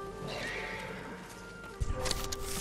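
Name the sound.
horses neighing and hooves, video game Ghost of Tsushima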